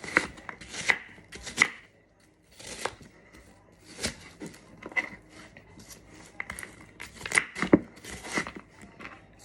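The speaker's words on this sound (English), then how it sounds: "But we're going to chop the apple up into fine pieces." A knife chops an apple into fine pieces on a board, with irregular bursts of quick, sharp cuts separated by short pauses, close and crisp, no one speaking.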